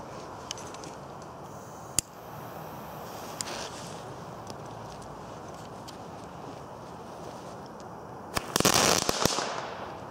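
Comet (Keller) Power Balls fireworks with a stand go off outdoors. A quiet wind-filled stretch with a few single pops leads to a loud, dense burst of crackling near the end.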